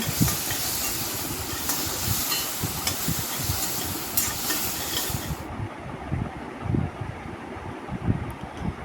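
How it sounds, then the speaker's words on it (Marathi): Steady broadband hiss of ginger and chillies roasting in hot oil, with scattered crackles and pops throughout; the bright upper hiss drops away partway through. "आलं थोडंसं तेल टाकून भाजून घ्या"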